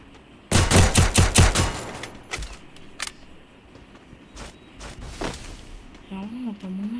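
Gunfire in a battle royale video game, with a rapid close burst of about half a dozen loud shots followed by a few scattered single shots, while a person talks over the game sounds.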